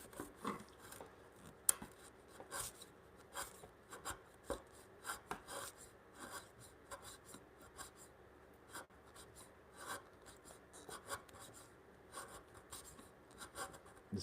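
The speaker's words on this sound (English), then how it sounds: "This is the way you have to shave at these imperfections, like the knots." A hand tool shaves knots and imperfections off a timber corner brace for a bunk bed in a workshop, making close, quiet scraping strokes in an irregular rhythm with no talking.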